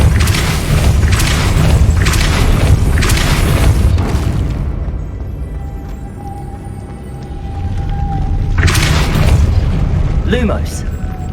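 Depulso force spell blasts in the Hogwarts Legacy video game, booming bursts repeating in a steady rhythm, then a pause with a faint tone before another loud blast and a whooshing sweep, over game ambience with no talk.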